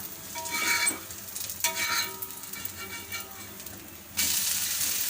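Cucumber dosa sizzles in oil on a pan, a steady frying hiss with stirring scrapes and bursts of crackle that jump louder near the end.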